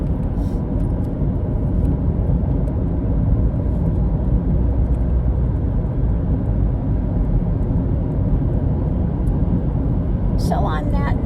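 A car cruising down a tree-lined road gives a steady, loud engine and tire rumble from inside the cabin, constant throughout, with a brief extra noise near the end.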